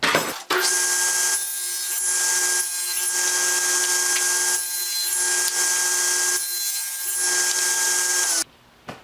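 Power saw ripping 3/4-inch-thick wooden stock to 2 inches wide for a beehive nuc build, a loud steady whine rising and falling across several passes, ending abruptly near the close.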